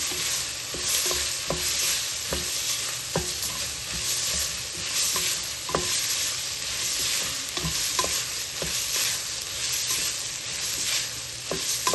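Curry leaves, turmeric and ginger-garlic paste fry in oil for a chicken curry, a loud continuous sizzle broken by repeated spatula clicks and scrapes against the pan, close and steady, with no voices.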